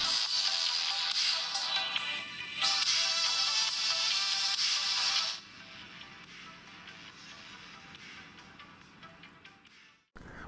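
A bright electronic ringtone from an Asus Zenfone Max Plus phone plays loudly with repeating trills, then drops to a much quieter level before stopping abruptly.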